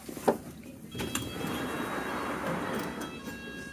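A London Underground District Line train stands at Dagenham Heathway on the Upminster-bound run, giving a steady interior rumble and hum with a sharp click near the start and door or mechanism noises, with no talk.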